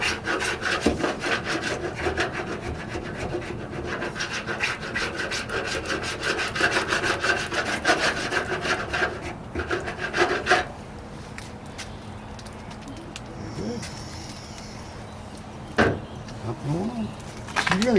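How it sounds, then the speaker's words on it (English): Bondo filler is being scraped and rubbed off the rear deck lid of a 1968 AMX in a rapid series of close, raspy strokes, followed by quieter scrapes and scattered knocks, with people talking briefly in between. "Just taking off bondo."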